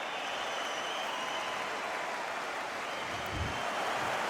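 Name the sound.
boxing crowd reacting in video game Undisputed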